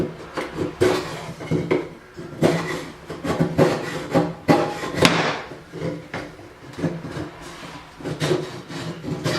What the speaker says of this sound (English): So I thought I'd just kind of go old school and take them out with the chisel